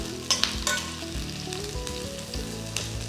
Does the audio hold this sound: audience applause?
no